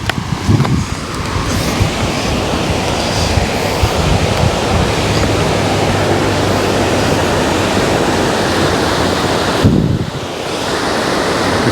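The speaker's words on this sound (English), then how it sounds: "I don't know if you can hear the water in the background, the sluice gates." Loud, steady roar of water rushing through river sluice gates on the Itchen, a dense continuous wash with brief buffeting from wind on the microphone.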